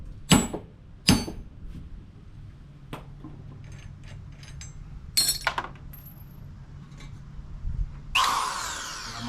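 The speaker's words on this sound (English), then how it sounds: "My electric, well, corded drill, way overkill" Sharp metallic clanks and taps come first, then a corded electric drill whirs loudly for a moment at the end, while working on Evo 8 wheels.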